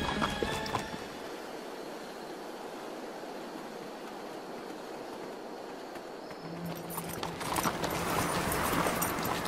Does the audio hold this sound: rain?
no